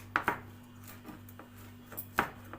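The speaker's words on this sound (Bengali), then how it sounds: "এখন লঙ্কা কুচি করছে" A knife chops green chilies on a board: a few faint, sharp taps in an uneven rhythm over a low background hum.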